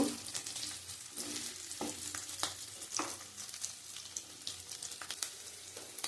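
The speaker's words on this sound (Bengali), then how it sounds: "আমি ভালো করে লাল লাল করে ভেজে নেব" Potatoes frying in oil for aloo dum, a steady close sizzle with occasional stirring clatters and bursts of spitting across the pan, no talking.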